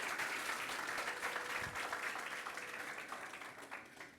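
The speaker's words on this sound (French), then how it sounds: "Je demande qu'on applaudisse pour eux, s'il vous plaît." A high-school audience applauds its teachers in a faint, steady patter of many hands that carries on for a few seconds, heard from a distance.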